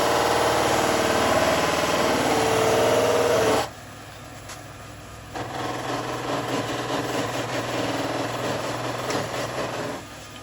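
A buffing wheel spinning to finish a woodturned bowl gives a steady high motor whine that drops abruptly partway through, then settles into a quieter, fluctuating hum before fading near the end.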